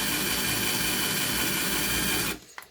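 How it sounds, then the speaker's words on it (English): A power drill grinds steadily through the metal eyelet of the rings on a Stone Malden leather Filofax, loud and continuous for over two seconds, then cuts off abruptly, leaving a few faint clicks. "you want to be putting a little bit of pressure onto the actual drill itself so that it can grind its way through the eyelet"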